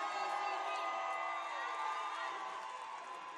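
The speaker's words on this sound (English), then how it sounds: "And the crowd goes wild." Crowd cheering and whooping at a roller derby game between the Brewcity Bruisers All-Stars and Treasure Valley Roller Derby All-Stars, a steady, loud wash of voices that carries through the whole stretch with shouts rising above it.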